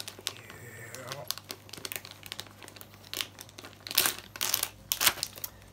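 Plastic wrapping of a TNT Meteor Shower fireworks selection pack crinkles and crackles close up in irregular bursts, louder toward the end, with a voice speaking over it.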